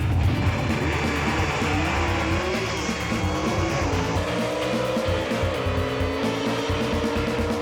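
A vintage-style gasser drag race car makes its run at a Southeast Gassers event: a loud, raw engine roar rises and shifts pitch as it accelerates hard down the strip, steady and close throughout.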